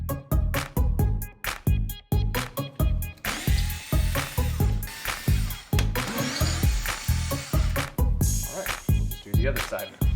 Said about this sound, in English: Now we'll remove 3 T15 Torx screws from the wheel liner area.